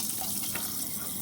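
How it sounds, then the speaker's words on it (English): Hot water runs from a kitchen tap for hand washing during cooking, a steady close hiss and splash of flowing water that stays even throughout with no talk over it. "Make sure to wash your hands. Use some hot water."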